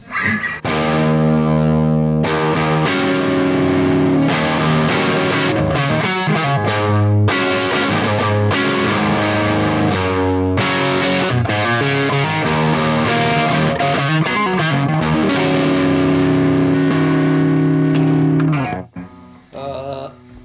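A loud electric guitar solo through a Marshall amp with driven tone and light delay, fast runs and held notes for about twenty seconds, ending abruptly.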